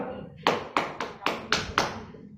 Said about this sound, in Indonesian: ibu tepukkan telapak tangan kanan di punggung telapak tangan kiri